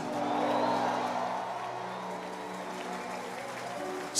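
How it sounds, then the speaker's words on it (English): A church congregation at a service in Lagos, Nigeria claps and cheers, a sustained wash of applause with some whoops, fairly distant and even. "Come on, clap for Jesus."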